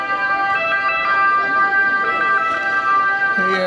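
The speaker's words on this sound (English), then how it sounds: "it's a European ambulance going by." A European ambulance two-tone siren wails steadily, loud and close as the ambulance passes, with faint road noise underneath.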